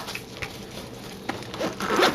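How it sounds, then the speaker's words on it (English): The zip on a DJI Mavic Pro drone carrying case is pulled closed in several short rasping strokes, up close and fairly quiet, growing louder toward the end. "let's go ahead and zip the drone up."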